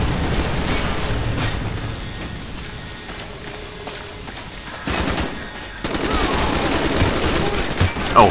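Gunfire in Call of Duty Black Ops as everyone shoots toward cover, dense sustained rattling bursts that run across the whole stretch, dropping briefly before loud renewed volleys near the end.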